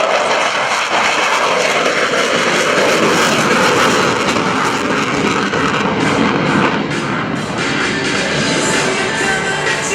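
F/A-18C Hornet fighter jet powering away and climbing out after a touch-and-go at an air show, a loud, sustained roar of engines filling the air from start to finish without voices.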